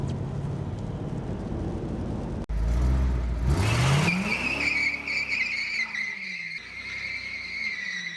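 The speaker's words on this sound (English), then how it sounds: "Those tires are so loud." A car with loud tires roars past with heavy tire noise on the road and a rising engine whine, followed by a sustained high tire squeal as it moves away.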